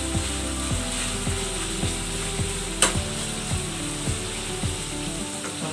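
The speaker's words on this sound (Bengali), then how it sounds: "পেঁয়াজ ভাজাটা হয়ে গিয়েছে" Steady sizzling of onions frying in a pan, broken by regular scraping strokes as they are stirred, close up with no talking.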